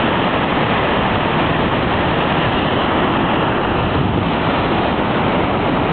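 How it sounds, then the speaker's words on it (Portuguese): A loud, constant roar of rushing water fills everything, a dense rumbling wash with no breaks, like a big waterfall nearby. "Aqui do nosso lado é tudo cachoeira"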